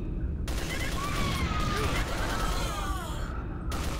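A machine gun fires in sustained bursts in the video game Lost Frontier, a dense, loud rattle of rapid shots with short gaps and faint whooshing effects.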